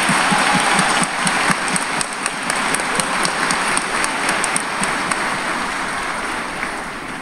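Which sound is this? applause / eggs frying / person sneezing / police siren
applause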